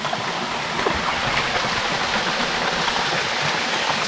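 Anyap Falls in Tanay, Rizal pours steadily, a dense unbroken rush of running water that stays loud and even throughout with no voices.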